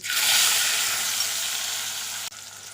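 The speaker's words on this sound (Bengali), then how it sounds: "পেঁয়াজটা দিয়েছি এবার হালকা ভেজে নেব" Chopped onion hits hot oil seasoned with asafoetida and sizzles loudly, a bright, steady hiss that fades slightly before an abrupt drop near the end.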